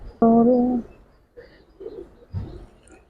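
Silver-necked Giribaz pigeons: one loud, near, tonal call, followed by a few faint, soft coos with quiet gaps between them.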